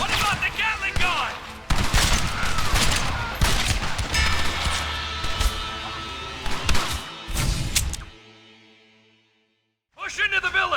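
A Gatling gun fires in the Western action game Red Dead Redemption: loud, rapid bursts of gunfire with crashing impacts, mixed with other game noise, then a sudden short silence before firing resumes.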